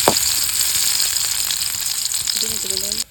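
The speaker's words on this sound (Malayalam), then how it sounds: "എണ്ണ നല്ലവണ്ണം ചൂടായി. നമുക്ക് ഉള്ളി ഇട്ട് കൊടുക്കാം കേട്ടോ" Small onions frying in hot oil for a fish curry hiss in a loud, steady sizzle, and a voice briefly sounds near the end.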